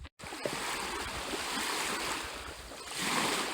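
Water washes against the lake shore at Long Pond near Rangeley, Maine, a steady close rush of lapping waves mixed with wind noise on the microphone, with no one speaking.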